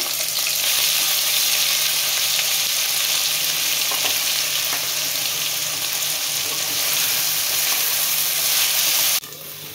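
Onions sizzle steadily in a hot pan for a potato curry, a dense continuous frying hiss with occasional stirring, cutting off abruptly near the end.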